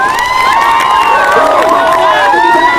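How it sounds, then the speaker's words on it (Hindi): Large crowd at a wrestling event in a rural village in India, loud and sustained cheering with shouts and whistles, continuous and dense throughout. "एक बार जोरदार ताली बजा करके स्वागत करें"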